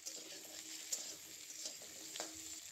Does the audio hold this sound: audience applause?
no